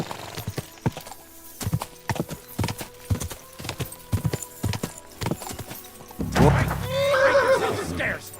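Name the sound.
horse hooves and neighing, video game Kingdom Come Deliverance 2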